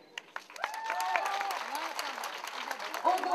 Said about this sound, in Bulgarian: и силни аплодисменти.